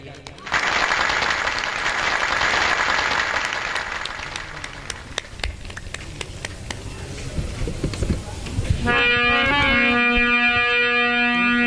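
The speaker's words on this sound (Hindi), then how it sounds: "एक बार जोरदार तालियों से हमारे मामा जी का स्वागत हो जाइए" Loud, sustained crowd applause fills a Bhagwat Katha gathering, with a steady wash of clapping that fades slightly midway before a synthesized harmonic tone enters near the end.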